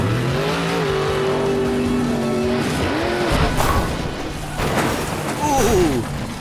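Monster truck number 13 revving and roaring over a jump, engine pitch rising and falling with tire squeal and skidding, loud and continuous for several seconds, with a bang near the landing.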